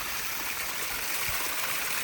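Water trickles steadily from a small spring dug on a hillside plot of farmland, a continuous close, even rush with no voices.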